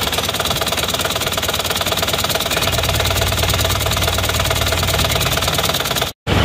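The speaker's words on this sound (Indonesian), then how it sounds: "Knalpotnya emang lebih tebal ya daripada Euro yang lain-lainnya" A motorcycle engine runs steadily, its exhaust note thick and unchanging and close to the microphone, until a brief dropout near the end.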